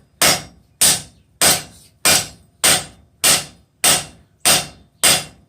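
Nine evenly spaced hammer blows on hot steel forging a bick iron for use with an anvil, loud, sharp and close, each strike ringing briefly before the next in a steady rhythm.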